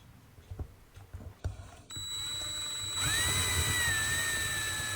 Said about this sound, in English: So we'll just drill that rivet out